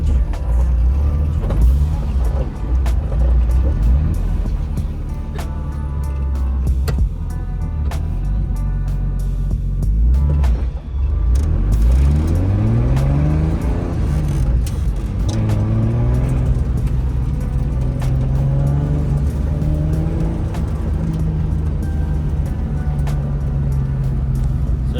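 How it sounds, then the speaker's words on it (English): Cheap BMW E36 budget drift car driving, its engine droning steadily with rising and falling revs throughout, loud and close, with brief muffled voices mixed in. "Beck's first time driving E36, like pretty much ever."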